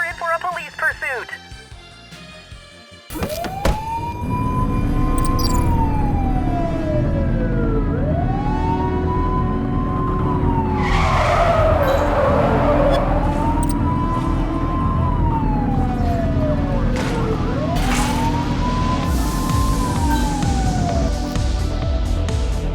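A police car siren in The Precinct video game wails in loud, repeating up-and-down sweeps over heavy engine roar during a chase, with brief squeals and harsh bursts partway through.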